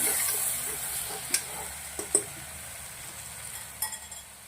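A spoon stirs turmeric and cumin seeds in a pan for rice, a quiet continuous scrape and faint sizzle broken by a few soft clicks of the utensil against the pan.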